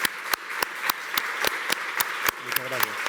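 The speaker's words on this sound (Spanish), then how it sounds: "Voy a pedir un aplauso para Eduardo." Applause at a justice-access conference session, with a steady crowd clapping texture punctuated by regular sharp claps close by and a voice talking over it near the end.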